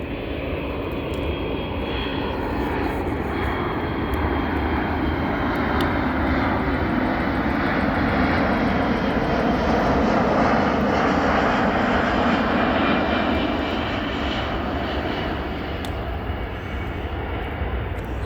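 A passenger airplane passes close overhead, its engines making a broad, steady roar that holds strong for about eighteen seconds with a slowly shifting whoosh, loud and unbroken with no talking.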